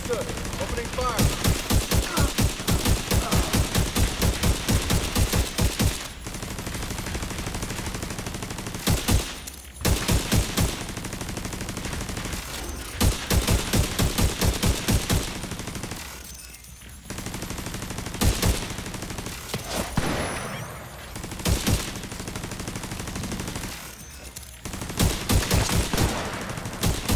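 Bursts of automatic weapon fire in The Division 2 video game during a stronghold attack come in long, loud volleys separated by short pauses, with occasional voices mixed in.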